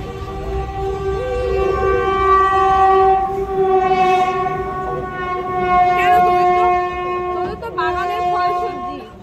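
A local train passes close by with its horn blaring in long sustained tones over the rumble of the rail cars, while voices talk faintly in the background.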